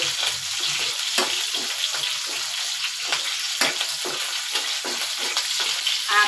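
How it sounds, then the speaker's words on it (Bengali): Green chillies fry in a pan with a lively crackling sizzle, interrupted by rhythmic scraping strokes as they are stirred, fairly close and without talk. "মরিচটা ভাজতেছি"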